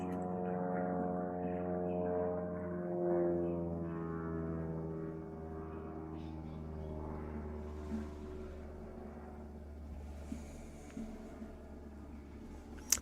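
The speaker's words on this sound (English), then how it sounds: "Do you hear the plane?" A propeller airplane drones steadily overhead, a low humming engine tone holding for several seconds, faint and distant with no talking.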